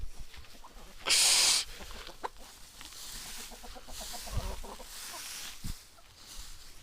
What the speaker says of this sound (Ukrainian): Бляха, кури роздирають солому.